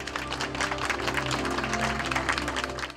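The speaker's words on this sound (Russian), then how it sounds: "Аплодируем, друзья." An audience applauds steadily at a public opening event, producing a dense, continuous wash of clapping hands that holds for the whole stretch and fades at the very end.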